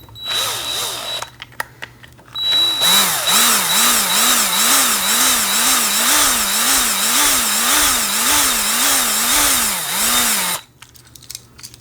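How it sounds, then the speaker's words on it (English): A power drill whirs in two runs, a short burst and then a long steady spell with a cyclic wobbling pitch as it bores into the bottom of a Hot Wheels toy car, then stops. "the drill bit will just start to move the bottom of the car"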